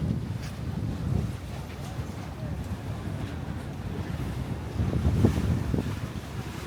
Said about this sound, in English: you can see the waves going in and out of the tunnel, splashing